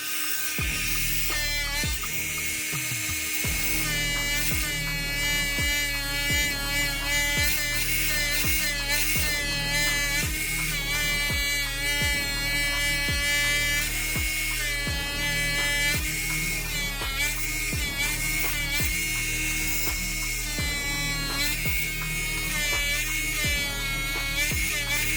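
Ryobi USB Lithium 4V rotary tool running flat out at maximum speed, a loud steady high-pitched whine with a constant motor drone that holds for the whole stretch, with no voices.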